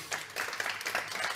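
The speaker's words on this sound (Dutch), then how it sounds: "Graag jullie applaus voor Franca Treur." An audience in a hall, with a coffee bar nearby, gives a brief burst of clapping at a book podcast recording, fairly faint and scattered.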